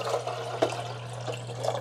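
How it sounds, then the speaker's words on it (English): Fresh water pours into the water tank of a Keurig K-Slim coffee maker, a close, steady splashing pour with a few brighter sloshes over a constant low hum, no voices. "now I'm going to dump the fresh water in here"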